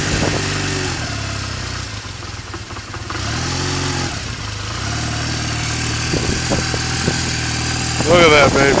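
A 2000 Honda Rebel 250 motorcycle engine idles after a cold start on a cold day, a steady low, even rumble close by with a slight rise in revs near the end.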